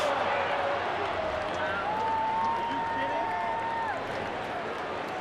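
Crowd noise fills a baseball stadium as the Cubs visit the Pirates, a steady dense roar with scattered whistles and shouts. A commentator talks over it.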